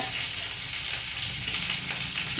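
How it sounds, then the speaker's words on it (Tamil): Curry leaves hit hot oil already holding mustard seeds and urad dal while a Tamil rasam is cooked, giving a loud, continuous crackling sizzle close up with no talking. "இப்போ கருவேப்பிலை போடுவோம்"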